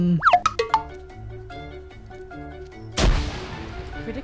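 Game sounds with quick springy effects and a sustained musical tone, then a sudden loud grenade explosion bursts and decays into a rumbling hiss.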